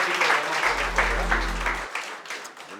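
Applause from a church congregation at a baptism celebration, steady clapping filling the room for a few seconds, with a low hum underneath.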